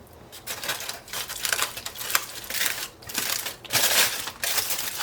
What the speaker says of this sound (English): Try not to tear your tinfoil.